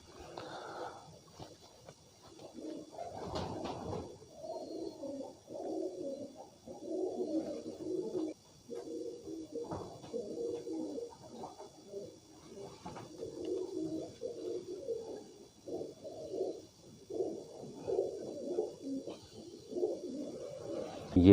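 Soft, repeated cooing of golden pigeons close by, in steady rolling phrases that continue almost without pause.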